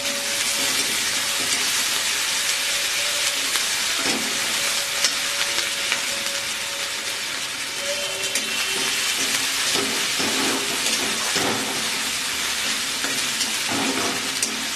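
Onion with ginger and garlic paste frying steadily in a pan for a pomfret fish curry, a continuous close sizzle with occasional stirring scrapes and no talk.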